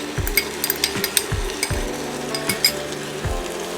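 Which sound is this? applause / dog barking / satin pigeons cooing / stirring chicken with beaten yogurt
stirring chicken with beaten yogurt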